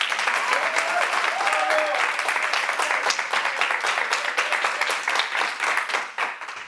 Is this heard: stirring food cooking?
no